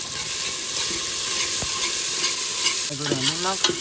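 Spice masala stirred and fried in oil in a pan, giving a loud continuous sizzle with stirring scrapes and one sharp clink, and a brief tonal squeak near the end.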